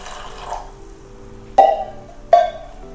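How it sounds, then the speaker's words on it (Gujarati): Water is poured into a pan while making green tea, giving two short, close splashing bursts over a quiet background. "સૌથી પહેલાં આપણે પેનમાં 1 કપ પાણી લઈશું"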